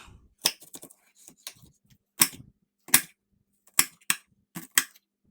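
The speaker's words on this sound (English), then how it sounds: "the first thing I'm going to do is cut this shallot" A knife chops a shallot on a cutting board with sharp, irregular taps, about a dozen close, crisp strikes separated by short pauses, with no talking.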